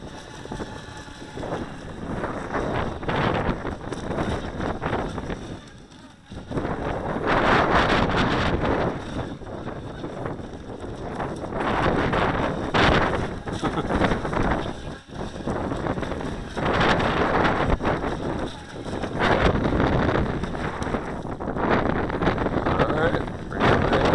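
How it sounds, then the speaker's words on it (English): A red and black Skytech H101 RC high-speed racing boat runs on open water, its motor giving a steady buzzing whine that carries through heavy wind gusts battering the microphone for the whole stretch. "That's the Skytech H101 high-speed racing boat."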